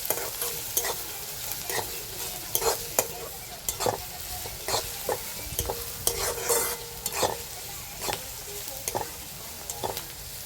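Okra with crushed garlic and masala fries in a pan under a continuous close sizzle, broken by repeated scraping stirs of a spatula at an uneven rhythm. No one speaks.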